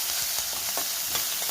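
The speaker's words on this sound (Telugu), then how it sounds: "కరివేపాకు, జీలకర్ర, సాల్ట్, కొంచెం గరం మసాలా మొత్తం వేసుకున్నాక ఫ్రై చేసేసుకుందాం." Curry leaves, cumin, salt and garam masala frying in a pan, giving a steady close sizzle with soft stirring scrapes, no voices.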